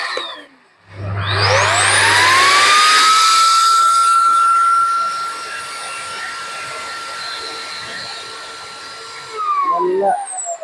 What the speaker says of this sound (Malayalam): നല്ലൊരു ഹൈ പവറിലാണ് ഇതിന്റെ മോട്ടർ തിരിയുന്നത്.